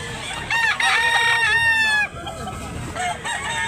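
A golden bulik gamecock rooster crows loudly and close, one long drawn-out cock-a-doodle-doo with a falling tail, followed by a shorter call, over faint background noise.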